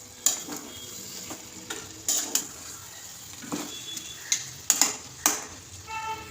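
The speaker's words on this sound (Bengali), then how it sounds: "এবার একটু নেড়ে ঢাকা দিয়ে দেবো।" Cabbage curry with a fish head is stirred in ghee. Irregular clinks and scrapes of a spoon against the pan ring out over a gentle sizzle, close by and without talk.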